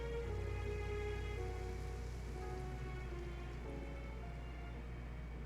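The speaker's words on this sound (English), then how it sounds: "It rained for longer than I suspected." Steady rain falls in the Genshin Impact video game, a continuous wash of patter heard alone at even loudness with a low background hum throughout.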